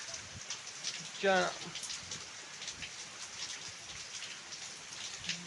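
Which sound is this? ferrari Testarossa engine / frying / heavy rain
heavy rain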